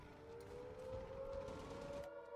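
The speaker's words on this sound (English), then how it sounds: "That is a warning siren." Warning siren blaring inside a video game during an attack on the player's facility, a steady rising wail held loud and alone for about two seconds before cutting off.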